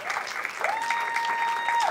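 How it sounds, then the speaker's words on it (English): Audience applause at a live comedy show in Dallas: a short, steady burst of clapping with a sustained tone and faint voices mixed in. "Clap for them all the way up here, man."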